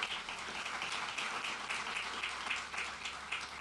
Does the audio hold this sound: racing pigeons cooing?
no